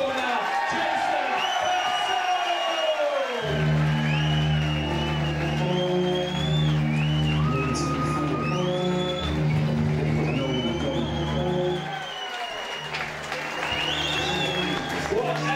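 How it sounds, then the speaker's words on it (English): Crowd at a fight night event cheers and applauds after the decision, a steady wash of clapping and whoops under an announcer's amplified voice, fading briefly before swelling again. "Please have a really, really loud round of applause for the man who's travelled here from Spain tonight, Diego Ramos!"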